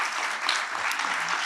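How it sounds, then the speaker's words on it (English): Brief audience applause at the Crossing Europe film festival awards ceremony, a dense, steady patter of clapping filling the room for a moment. "Short applause, because maybe you want to stand up then."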